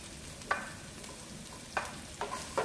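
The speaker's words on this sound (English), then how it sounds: "stir it for a few minutes before I add my carrots" Onions sauté in a pan with a low, steady sizzle while a utensil scrapes and taps against the pan several times at uneven intervals.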